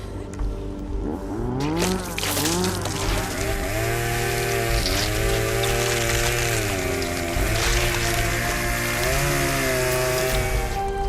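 A chainsaw in a film roars loud and close, its engine revving up and down continuously without a break.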